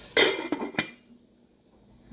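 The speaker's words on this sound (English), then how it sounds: "I'm gonna cover it." A lid is set onto a cooking pot of pumpkin and chicken, giving a few sharp metallic clanks in quick succession, close by, followed by a soft low hum.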